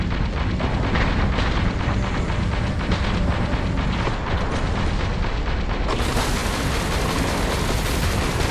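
An explosion in the space game Starfield, a loud continuous roaring rumble of blast noise that surges brighter partway through, dense and close with no speech.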